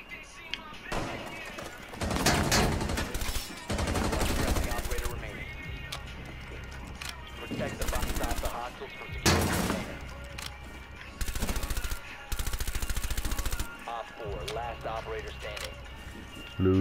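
Rainbow Six Siege video game gunfire: dense bursts of rapid automatic shots and single loud reports come in clusters, mixed with game sound and players talking.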